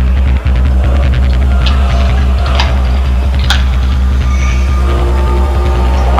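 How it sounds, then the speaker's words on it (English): A steady low rumble and throbbing hum of a train rolling in within the game Project Playtime, with faint metallic squeals and clanks over the drone; no voices. "Train should be here shortly."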